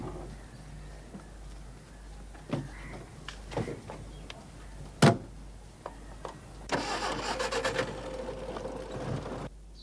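A car door thuds shut and then a car engine cranks and starts, turning over and settling into a low idle nearby, with faint birds in the background.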